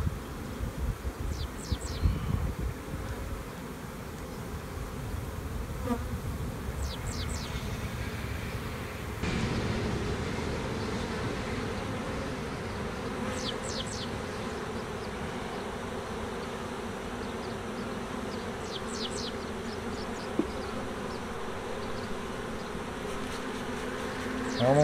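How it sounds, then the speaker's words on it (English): A huge swarm of honey bees fills the air with a dense, continuous buzzing drone, steady and close throughout, with occasional nearer wingbeats passing by and no talk. "Look at all them bees."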